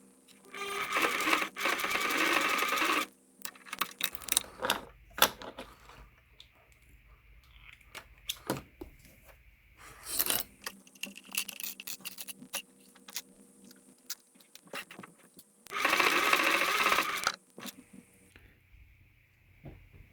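Sewing machine with a heavier needle tacking the layered fabric pleats of a face mask, a few short bursts of fast rattling stitching separated by quiet pauses and small handling clicks.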